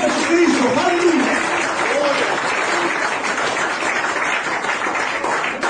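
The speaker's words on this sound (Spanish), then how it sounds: "Den un aplauso para el Señor Jesucristo." Congregation applauding during an evangelistic church service, dense sustained clapping from a large crowd with a voice briefly audible over it near the start, holding steady and loud throughout.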